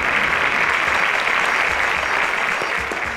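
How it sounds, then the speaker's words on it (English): Audience at a junior competition show semi-final gives a full round of applause, a dense, loud, continuous wash of clapping that tapers slightly at the end. "a round of applause to her."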